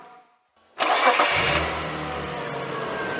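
A 37-year-old Holden VL Turbo car engine cranks briefly after a short silence, then catches with a loud burst and settles into a steady, smooth idle, close by and alone.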